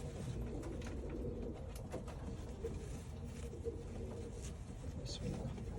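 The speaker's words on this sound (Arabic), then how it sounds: "زوج رماديات." Grey pigeons, a pair, cooing in a loft amid steady background noise; soft, faint calls sit low in a continuous hum with some speech-like murmur.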